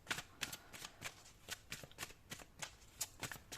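A deck of tarot cards is shuffled and handled, giving a quick, steady run of crisp riffling flicks and soft slaps, close and fairly quiet, with no talk.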